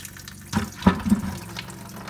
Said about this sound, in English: Yeah, it's draining. We're getting some in the bucket.